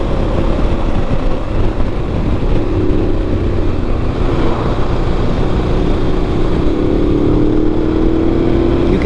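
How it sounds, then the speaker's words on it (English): A Ducati Multistrada motorcycle accelerating hard on curvy mountain roads, its engine a loud, steady droning roar with a rising horn-like tone, heard from a following bike amid strong wind rush. "You can always tell when he gets on the gas. You hear it. It's like a horn."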